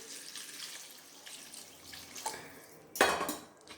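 Water poured from a tap or jug into a pan of prawn curry in a home kitchen, a soft running splash building to a louder, closer gush near the end, with no talk.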